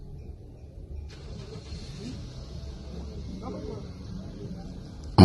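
A car engine turns over and settles into a low, steady rumble as people climb into the vehicle at night, with faint voices in the background and a sharp knock at the very end.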